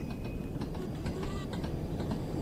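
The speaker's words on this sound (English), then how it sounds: "there goes a freight train on the main line there" A steam freight train hauled by an 8F locomotive passes on the main line in Train Sim World 2, heard as a steady, muffled rumble with faint rhythmic clicking of wheels.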